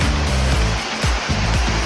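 A waterfall roars as a steady, loud broadband rush of falling water, close and unbroken, with low rumbling underneath.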